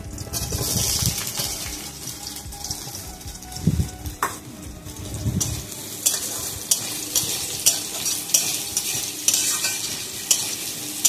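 Small-cut potato pieces fry in a pan for a banana flower curry, with a loud sizzle and repeated scraping and stirring strokes that bump and clatter in a steady rhythm close by, no voices.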